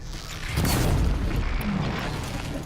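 A machine's cannon fires in the Horizon Zero Dawn video game, a heavy booming blast that swells quickly and then rumbles on in a sustained low roar.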